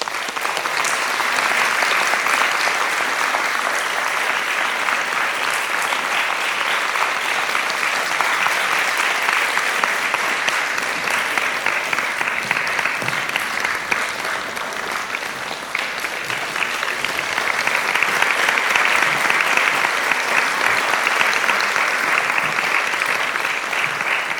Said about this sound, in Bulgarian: Моля вашите аплодисменти.